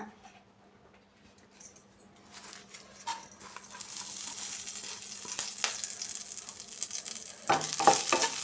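Curry leaves crackle and sizzle in a hot pan, starting quiet then swelling into a steady, bright frying hiss with scattered pops and metallic clinks.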